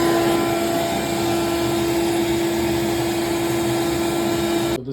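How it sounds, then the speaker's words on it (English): A wet vacuum hums steadily as it sucks up flood water sitting on a luxury vinyl plank floor, a loud, continuous motor drone with a constant whine that cuts off abruptly at the end. "I'm gonna get a wet vacuum from the basement and scoop her up"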